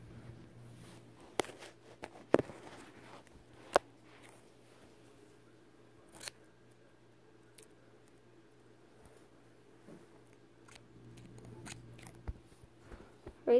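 Scissors snip a strip of tape during a small craft build, a few sharp, quiet cuts scattered over a faint hum in a still room.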